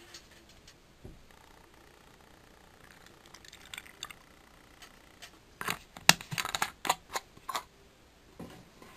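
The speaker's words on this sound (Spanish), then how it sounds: "Enseguida vamos a agregar una cucharada de agua oxigenada." A spoonful of hydrogen peroxide goes into a small spray bottle: quiet clinks and small splashes, with a cluster of sharper taps and pours toward the end, close and faint in an otherwise quiet room.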